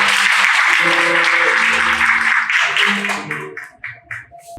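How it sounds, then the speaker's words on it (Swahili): A church congregation claps loudly together in praise of Jesus during a testimony service, dense applause that thins into a few scattered claps and fades out toward the end. "Simpigie Yesu makofi."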